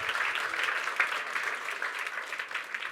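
Steady applause from a church youth prayer-meeting congregation, many hands clapping in a dense continuous wash at moderate volume, with no voices on top.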